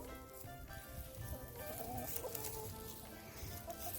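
Soft, low clucking from chickens, faint and scattered against a steady background hiss, with no one talking.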